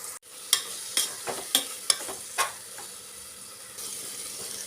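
Crushed ginger-garlic paste stirred into sautéed onions in a pressure cooker for prawn biryani, with several sharp scraping stir strokes over a steady close sizzle.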